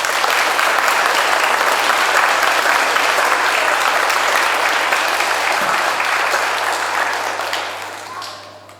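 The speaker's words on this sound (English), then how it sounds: "Let's give them another clap." A school audience at a poetry reading final claps for young pupils, a loud, dense round of applause that holds steady and then tapers off toward the end.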